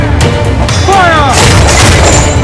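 A loud broadside of ship cannon blasts in Assassin's Creed Black Flag booms and crashes amid constant battle noise, while a crewman's shout rises briefly over it.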